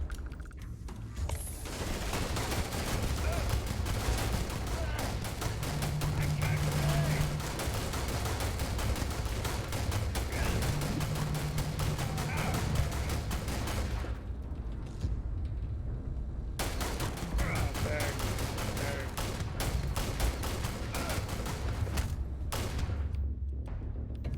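Rapid bursts of paintball gun fire in Starfield crackle in dense, sustained volleys, loud and close, pausing briefly twice before resuming, with no voices over the shots.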